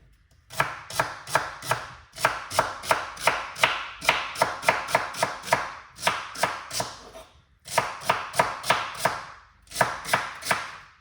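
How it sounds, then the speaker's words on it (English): A knife chops celery on a cutting board in rapid, even runs of sharp, close knocks, with brief pauses between the bursts and no talking. "Get all of that beautiful celery cut up"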